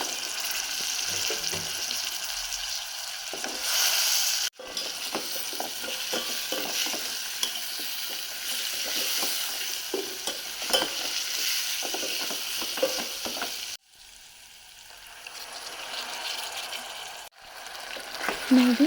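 Drumsticks (moringa pods) frying in oil with chili powder for a South Indian sambar, a steady close sizzle with repeated stirring scrapes that drop out briefly a few times.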